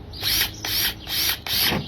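A cordless power drill drives screws in three sustained whirring bursts with brief pauses between, close and fairly loud, with a ratcheting, grinding edge.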